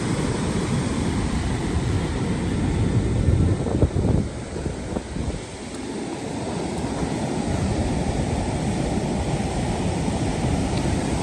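Ocean surf rolls onto a shore as a continuous roaring wash, with a heavier surge near the middle before easing, and wind buffeting the microphone throughout.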